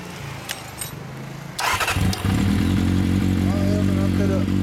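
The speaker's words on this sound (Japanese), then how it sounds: "あのエンジン音聞かせてください。" A Kawasaki ZRX400 motorcycle with a Moriwaki exhaust cranks and catches at about a second and a half, then settles into a loud, steady, throbbing idle with light mechanical clatter.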